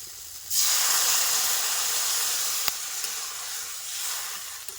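Water splashing into a pan of fried potato and eggplant, cooked outdoors by a river: a sudden loud hiss and sizzle that holds steady and fades slightly, with no voices.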